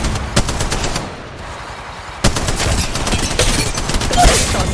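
Rapid bursts of automatic gunfire in Apex Legends Mobile, sharp repeated shots in clusters with a brief lull midway, then sustained firing and battle noise.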